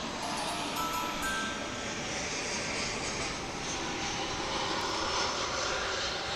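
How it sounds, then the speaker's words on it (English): An American Airlines Airbus A319 touching down at DFW International Airport, a steady broad engine roar with a faint whine on top, constant and moderately distant for the whole stretch. "Here's a plane arriving from San Antonio, Texas, an A319 American Flight 2792, touching down now."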